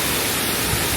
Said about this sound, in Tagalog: Lakas ng buhos sa Tamaraw Falls.